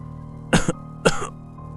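Two harsh coughs, about half a second apart, close and fairly loud over a low steady hum.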